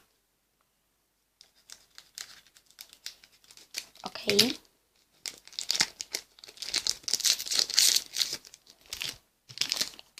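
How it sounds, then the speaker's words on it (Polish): A crinkly foil Pokémon XY Flashfire booster pack rustles and is snipped open with scissors in several quick bursts, close up, with a brief spoken word partway through. "Nie ma sensu, więc nożyczki do dzieła."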